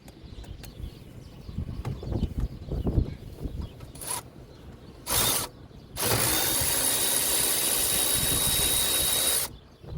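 A ratchet wrench works on an alternator bracket bolt in a Geo Tracker engine bay: quick clicking bursts, then a long, steady, loud run of ratcheting clicks close by.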